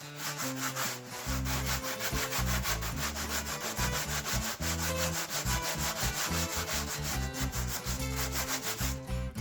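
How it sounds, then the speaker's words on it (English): 60-grit sandpaper scuffs a fiberglass part on a Nismo R34 Skyline in rapid, rhythmic back-and-forth rasping strokes, continuous and close for the whole stretch, with no voices. "let's just scuff this up."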